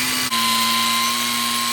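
An angle grinder with its guard removed, fitted with an aggressive grit disc, strips paint; a loud, steady high-pitched whine runs continuously after a brief dip at the start.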